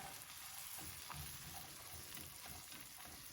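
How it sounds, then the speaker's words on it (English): Onions and vegetables sauté in butter in a pan, giving a soft, continuous sizzle that stays faint and even throughout, with no voices. "It's getting all soft and all sauteed in that beautiful butter."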